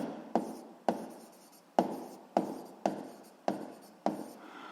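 Handwriting on paper, seven sharp pen strokes in a steady rhythm, each starting with a crisp tap and trailing off, close and alone.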